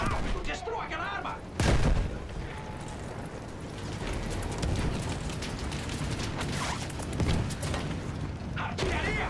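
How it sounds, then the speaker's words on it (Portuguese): Artillery fire in the Battlefield 1 game booms out in a near, loud burst amid a dense, continuous battle din of gunfire and blasts, with voices calling out over the chaos. "Artilharia!"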